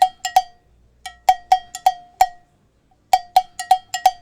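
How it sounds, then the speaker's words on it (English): Stylus RMX cowbell pattern, bright metallic clanks struck in quick syncopated groups with short pauses between phrases, crisp and close with nothing else under it. "let's take this cowbell"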